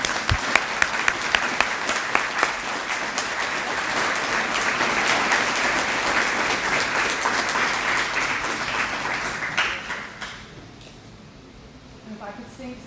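A crowd applauds steadily at a hall of fame event with dense, sustained clapping that fades out near the end, leaving a quieter room.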